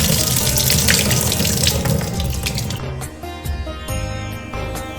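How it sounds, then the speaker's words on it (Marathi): Water runs steadily from a tap into a sink, a continuous rushing stream with faint clinks as soaked chana dal is rinsed underneath. "सकाळी चणा डाळ भिजू घातली होती मी आता ती स्वच्छ धुवून घेणार आहे"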